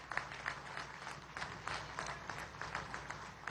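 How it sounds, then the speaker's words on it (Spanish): A crowd claps for deputies at a public event in Venezuela, with rhythmic applause at moderate distance, fairly quiet and continuous. "Vamos a darle un aplauso a nuestros diputados y diputadas"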